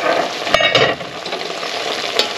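Chicken and pork adobo cooks in a pan with a loud, close, continuous sizzle, broken by a few brief sharp clacks of a utensil against the pan.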